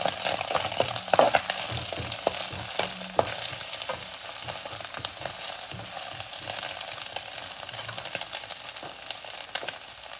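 Eggs and basmati rice stirred in a hot pan with garlic, a steady soft sizzle broken by scraping spoon strokes and small crackles, fairly quiet and close, with no voices.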